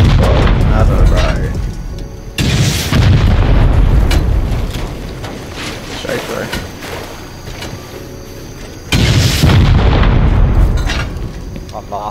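Rocket explosions in the Rust survival game land in heavy booming blasts, two huge impacts several seconds apart with rumbling debris and crackling between, loud and close, with players talking over the noise.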